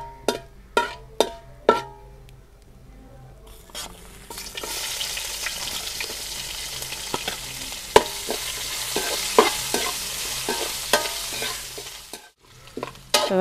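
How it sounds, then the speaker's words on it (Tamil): Fennel seeds sizzle in a pan before onions are tipped in, bringing a loud, dense frying hiss, punctuated throughout by sharp taps of a stirring spoon against the pan. "பெருஞ்சீரகம் செவந்துட்டு வெங்காயத்தை போட்டுருவோம்."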